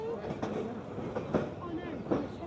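A heritage tram runs on rails at the Crich Tramway Museum in Derbyshire, England, with a soft, distant rumble and faint wheel clatter beneath nearby voices.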